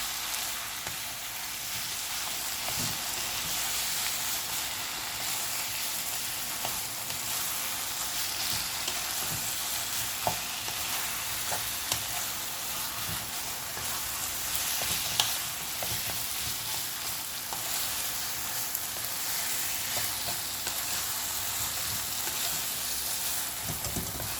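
Paneer and green capsicum bhurji sizzles steadily in a hot pan with no voices, a constant bright frying hiss broken by faint scrapes and taps as the mixture is stirred.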